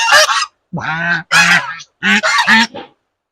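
A goose honks loudly and close by in a run of harsh, nasal calls, two short groups of honks separated by brief silences, alone without talk.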